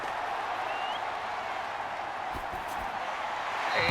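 Crowd applause in Madden 22 during a Baltimore Ravens vs. Cleveland Browns game, a steady, fairly faint wash of clapping and crowd noise that swells slightly at the end.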